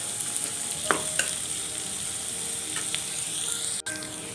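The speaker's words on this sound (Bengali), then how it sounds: "পেঁয়াজটা ভালো করে ব্রাউন করে আগে ভেজে নিতে হবে" Onions browning in a pan give off a steady, close frying hiss, with a few sharp clicks and light stirring knocks scattered through it.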